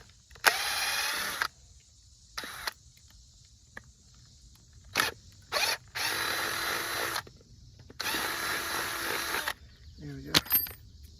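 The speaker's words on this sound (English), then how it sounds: "So now I'm just going to drill a couple of holes in here in the bottom." A power drill boring two holes through the bottom of a plastic catch basin, in several loud bursts of whirring separated by pauses, with a short clatter at the end.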